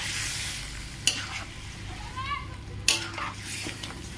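Borali fish sizzling as it fries in a pan with mustard and tomato, a steady hiss with two sharp clanks of utensil against the pan and brief stirring scrapes.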